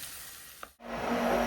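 Carrots and potatoes sautéing in a pan give off a steady broadband sizzle, broken by a short clink and a brief near-silent dip partway through as the vegetables are stirred.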